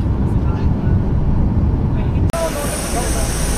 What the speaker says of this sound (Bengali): এখনো ঘুরতেছে রানওয়েতে, এখন ঘুরতেছে।